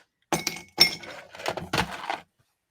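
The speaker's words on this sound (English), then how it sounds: "Put some ice in your glass." Ice cubes tumble into a glass during cocktail-making, a few separate clinking, clattering bursts close to the mic, with no talking.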